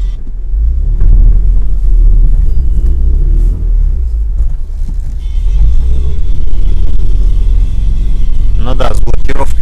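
A UAZ off-road vehicle ploughs through deep snow, its engine a loud, continuous low rumble heard from inside the cab, with a voice speaking over it.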